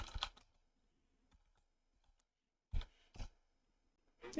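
Bursts of clicking from a computer keyboard used to log in as root on a fresh Arch Linux install: one short burst, then two quick clusters a few seconds later and another at the end, with quiet gaps between, close and moderately loud.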